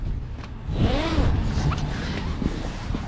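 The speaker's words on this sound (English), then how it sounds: "Then I'm gonna zip this up." Zipper pulled closed on a cover aboard a 2021 Arima 17 Sea Chaser boat, one steady rasping zip lasting a couple of seconds, close and fairly loud over faint background noise.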